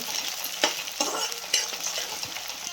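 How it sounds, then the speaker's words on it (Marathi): Lengthwise-cut tomato sautéed in a pan for leftover-chapati poha gives a steady close sizzle, punctuated by several sharp spatula scrapes and stirs, with no talking. "तो पण टाकतो आणि त्यालाही छान एकदम परतून घ्यायचं"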